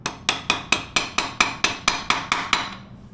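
Hammer taps on a motorcycle sprocket lock ring during a sprocket install on a 2022 Triumph Speed Twin: eleven sharp metallic strikes, close and evenly spaced, ringing briefly before stopping.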